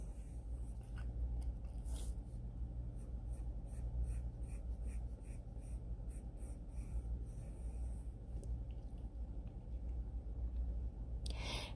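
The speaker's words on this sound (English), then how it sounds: "we're just going to start out by lightly sketching an almost complete circle" A pencil lightly sketches a nearly complete circle on paper for a Bitmoji-style self portrait, giving a soft, steady scratching under a low background hum, with a brief brighter stroke near the start and another at the end.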